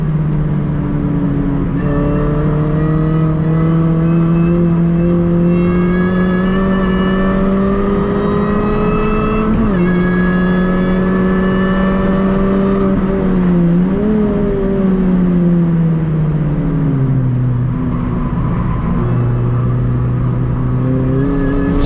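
An R53 Mini Cooper S at full throttle on a track day at Oulton Park, its engine droning loud and steady, rising and falling in pitch through gear changes and corners, with no talking.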